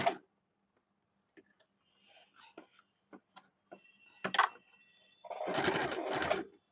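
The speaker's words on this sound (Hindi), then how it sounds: "यहाँ पे हम लोगों को डबल सिलाई चला लेना है मजबूती के लिए" Sewing machine running a double line of stitching on a gents' short kurta, quiet scattered clicks and handling first, then a loud steady whirring burst near the end.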